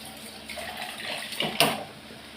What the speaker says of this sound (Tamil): இந்த மிக்ஸி ஜாரை கழுவி கொஞ்சம் தண்ணி ஊற்றிடுறேன்.